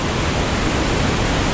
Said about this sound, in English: This is massive waterfall.